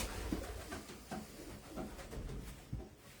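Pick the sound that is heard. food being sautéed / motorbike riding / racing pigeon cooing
racing pigeon cooing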